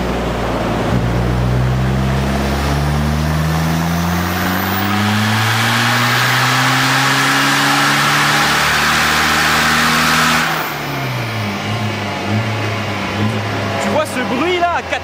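A Peugeot 206 HDI stage 3 diesel revving hard on a dyno, a loud sustained engine roar climbing in pitch for about ten seconds, then dropping off as it winds down, with voices talking over it.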